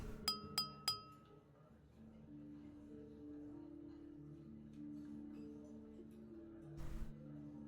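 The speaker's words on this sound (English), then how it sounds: "the crisp sound of clinking glasses captures everyone's attention" Three quick, bright clinks of glasses ring out at the start of a banquet in the video game Love & DeepSpace, followed by soft ambient music and one more faint glassy chime near the end.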